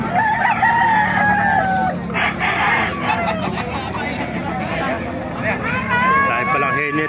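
Chickens and roosters crow and cluck at a Bocaue market, with close crowing repeating several times over a steady babble of market voices and someone talking nearby.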